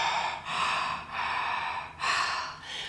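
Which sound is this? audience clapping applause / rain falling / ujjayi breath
ujjayi breath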